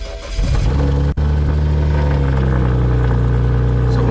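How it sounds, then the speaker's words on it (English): A BMW 335i with the N54 engine and a big turbo, rebuilt from salvage, cranks and catches, then settles into a loud, steady rumbling idle close to the microphone. "Let me start the car to show y'all."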